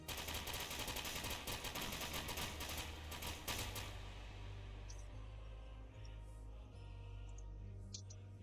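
Rapid automatic gunfire from a first-person video game, SCP: Secret Laboratory, rattles in dense bursts for the first few seconds, then gives way to lower rumbling background with faint distant shots.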